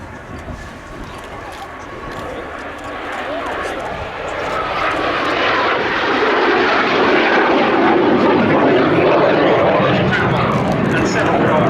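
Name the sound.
Jet Provost jet trainer aircraft flying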